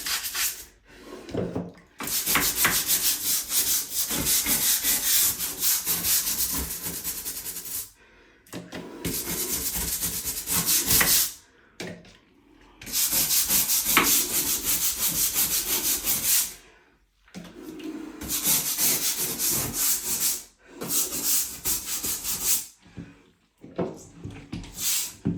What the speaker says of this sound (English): We're gonna take our grout brush and go back to any of the areas that are discolored